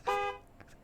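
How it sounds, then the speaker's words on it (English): A single short car horn honk in the video game Encased, with a bright, buzzy tone, close and loud, lasting about a quarter second before fading into quiet. "And I can honk the horn."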